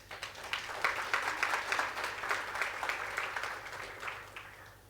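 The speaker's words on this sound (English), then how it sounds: "So I think we need to give them a round of applause." Moderate applause from a budget briefing audience swells after a quiet start, holds as a steady patter of many hands for several seconds, then gradually tapers off, with faint room hum beneath.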